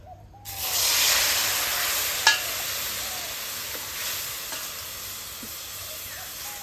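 About two cups of water poured into a pan of fried vermicelli, letting out a loud burst of steamy sizzling and hiss that slowly settles over several seconds, with a few faint clinks and no voices.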